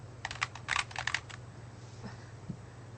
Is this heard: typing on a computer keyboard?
yes